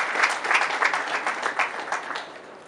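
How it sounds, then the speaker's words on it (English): An audience at a conference session applauds with steady, dense clapping that carries on loudly and then eases slightly. "Please, kindly give him a round of applause,"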